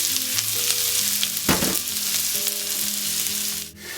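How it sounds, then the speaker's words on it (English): Chopped onions sizzle steadily in hot extra virgin olive oil in a pan, a loud, close and continuous frying hiss with brief bursts of crackle and no talking. "olive oil, and then in with our onions. That is the correct sound."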